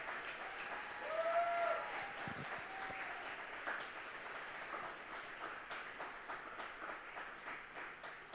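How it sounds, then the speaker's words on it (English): A fashion show audience gives the technical team a round of applause, soft and fairly distant, a light patter of clapping that swells briefly early on and then carries on evenly. "so if you could give them a round of applause."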